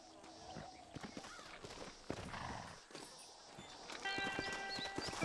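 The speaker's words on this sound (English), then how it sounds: "Horses are over here." Horse hooves clip-clop in a steady walking rhythm in the Red Dead Redemption video game, fairly close and quiet, with a faint whinny and game ambience around them.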